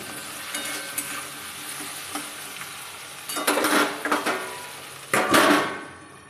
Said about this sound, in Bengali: এদিকে বসিয়েছি ঢ্যাঁড়স ভাজা